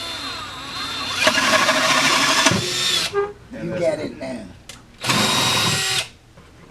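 A power drill bores a hole during a flint survival workshop, whining loudly in two sustained bursts separated by a short pause, with people talking quietly between and around the drilling.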